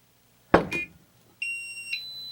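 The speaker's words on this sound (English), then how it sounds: "That one's beeping a couple times." A short scuffing noise is followed by a high electronic alarm from a WiFi water leak detector at a kitchen sink that beeps twice, the second tone shifting slightly, clear and nearby.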